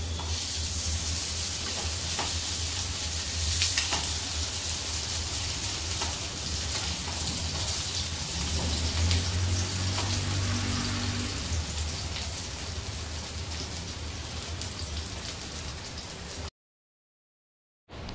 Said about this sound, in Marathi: स्लो गॅसवरती फ्राय करून घ्यायचे।